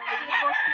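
A White Kelso rooster crows briefly and close by at a pet market, one short, bright call alone with no talk over it.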